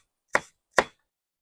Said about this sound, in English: this is what I'm gonna do with all my bell peppers